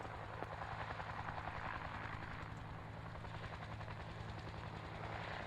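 A Huey helicopter approaching to land, its rotor producing a steady, loud, continuous throb with rhythmic blade chop across the whole stretch, close and dominant with no talk.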